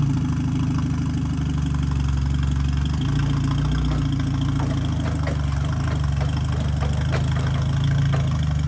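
A forklift engine runs steadily throughout as the machine drives, a loud, continuous low rumble with a slightly uneven idle-like throb and faint mechanical ticks on top, no voices.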